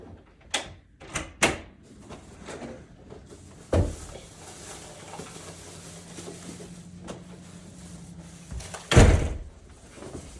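A door opens and thuds in a home kitchen, with several sharp knocks and bangs near the start, a louder clunk in the middle and a heavy thump near the end, separated by quiet room noise.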